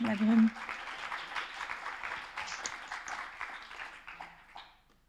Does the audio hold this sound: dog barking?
no